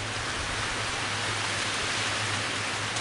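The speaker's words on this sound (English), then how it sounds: "Oh, it's coming down good now. She's coming down good." Steady rain pouring down outdoors, a dense continuous hiss of drops with a low hum beneath, no voices, lasting throughout.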